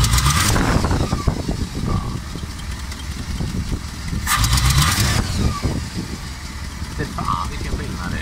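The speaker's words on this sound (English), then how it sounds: "Let's try to find out why this engine doesn't go on like it should." An old car engine cranks repeatedly and sputters while trying to start, a loud continuous rumble with brief surges.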